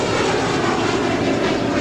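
Airbus A340-600 four-engine jet departing from the south side of LAX, a loud dense, unbroken roar with strong low rumble, close and steady for the whole brief stretch.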